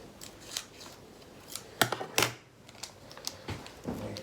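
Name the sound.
scissors cutting open a meal package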